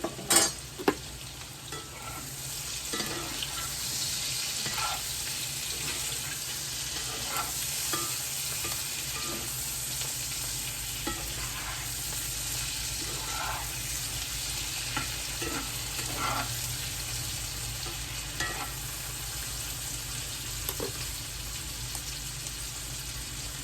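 Gnocchi cook in a pot on a home stovetop, a continuous bubbling, hissing boil with occasional soft clinks and stirring knocks, steady and near, without speech.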